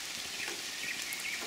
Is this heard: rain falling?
yes